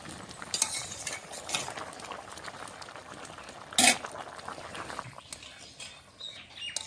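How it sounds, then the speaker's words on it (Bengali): A pot of rui fish curry with potatoes and flat beans simmers, with soft, irregular bubbling and patter and a single brief clank of a utensil partway through, close and quiet without speech. "আর একটু ফোটাবো।"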